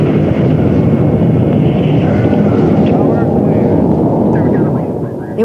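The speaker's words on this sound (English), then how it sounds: "There was a noise like thunder, and the space plane took off" A space plane takes off with a deep, thunder-like roar: one loud, continuous low rumble that holds steady throughout and eases slightly just before the end.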